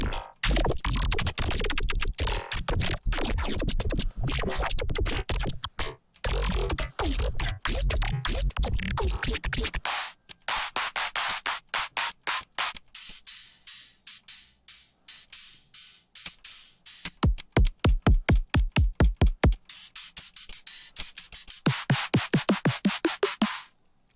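Drum samples from a sample pack (kicks, snares, claps, bass glitches) auditioned one after another: dense gritty noisy bursts, then rapid sharp hits and rhythmic stutters, loud and dry with no voice.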